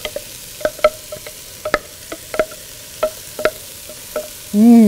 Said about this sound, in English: start sauteing the vegetables. Actually cooking the vegetables.